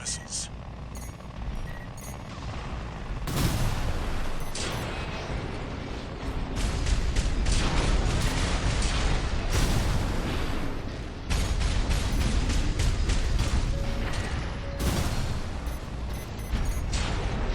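Missile launches and explosions from a mech in Armored Core VI during a fight against six enemies, a dense run of loud booming blasts and mechanical roar with sharp bursts repeating over about seventeen seconds.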